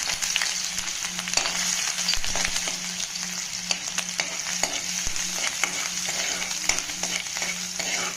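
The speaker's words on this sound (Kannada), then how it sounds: "ಶುಂಠಿ ಸ್ವಲ್ಪ ಮಿಕ್ಸ್ ಮಾಡಿ ಸ್ವಲ್ಪ ಫ್ರೈ ಮಾಡ್ತೀನಿ" Finely chopped ginger frying in about three spoons of oil in a pan, a steady close sizzle with occasional stirring scrapes and clicks throughout, no voices.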